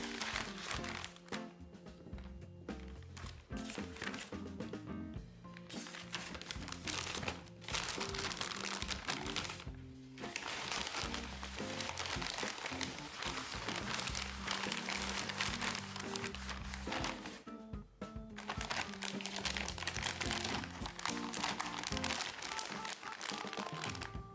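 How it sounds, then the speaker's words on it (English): Plastic bag crinkles and crunches almost continuously as cleaned chestnuts are packed into it, loud and close, with only a few brief pauses. "Then put them all into a plastic bag."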